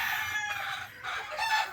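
Hens and a rooster in a breeding pen, with loud nearby clucking and a crowing call in a short burst.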